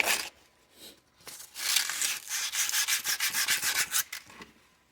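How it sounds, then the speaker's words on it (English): Abrasive scuffing the factory finish off the crown of an EAA Windicator .357 Magnum revolver, a close, dry rubbing that builds into quick rhythmic strokes, then tapers off, with no talking. "All I'm doing is scuffing it up and taking that factory finish off."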